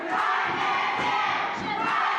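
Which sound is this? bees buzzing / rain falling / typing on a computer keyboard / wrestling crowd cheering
wrestling crowd cheering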